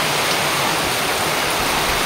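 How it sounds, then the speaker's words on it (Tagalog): Steady heavy rain pours down outdoors during a barangay Bible study gathering, a dense continuous hiss with no talk over it. "medyo po lumakas yung ulan"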